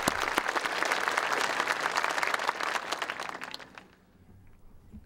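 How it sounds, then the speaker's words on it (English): Graduation crowd at South St. Paul's 2009 ceremony applauds scholarship donors and award winners, a full, dense burst of clapping that holds steady, then thins and fades away toward the end. "Let's have a round of applause for all the scholarship donors and the students who"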